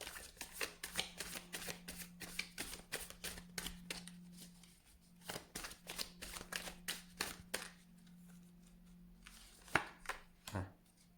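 Dark Mansion tarot cards are shuffled in quick repeated bursts of crisp, close slapping and riffling, pausing briefly midway before resuming, in a quiet room.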